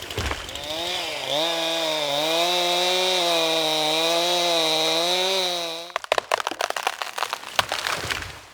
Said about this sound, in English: we just went through our first tank of gas in the chainsaw